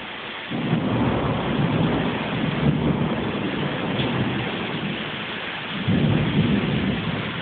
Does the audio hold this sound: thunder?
yes